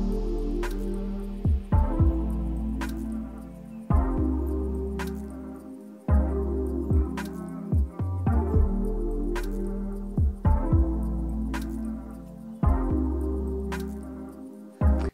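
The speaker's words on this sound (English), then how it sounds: "this track right here, it's got birds, vinyl dust going, this like texture noise" Lofi beat layered with birdsong, dusty vinyl crackle and soft texture noise: a steady looping groove of warm bass thumps and repeating chords, with faint crackle and high chirps sitting on top throughout.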